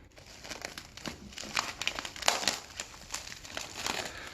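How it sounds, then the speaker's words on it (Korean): Plastic wrap crinkles and crackles as it is peeled off a red cabbage, a close, continuous run of sharp rustles and snaps with no talking. "비닐 좀 벗겨주세요"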